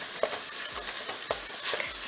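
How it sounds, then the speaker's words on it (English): Ground beef sizzles in a medium pan as a steady, close hiss, with a few soft clicks and scrapes over the top and no voices. "I'm just gonna dump this burger meat into my medium pan here"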